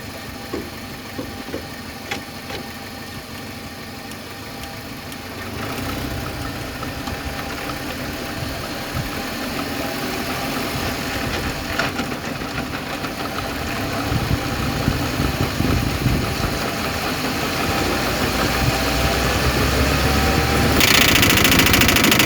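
A car that shakes while accelerating from 0 to 100 gives a steady engine drone with a rough, knocking undertone. The engine builds gradually louder over the run and rises to its peak near the end.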